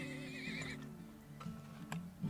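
A horse whinnies in the video game Turmoil, over a light music bed, followed by a couple of short clip-clop or tick sounds toward the end.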